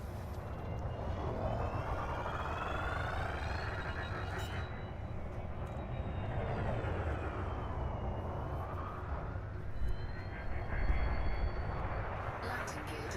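A spaceship docks at a carrier in the Elite Dangerous video game with a continuous engine roar and sweeping whine, a steady drone that rises slightly near the end.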